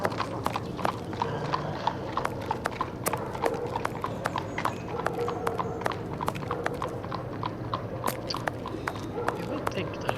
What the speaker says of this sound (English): That's the horse again, somewhere.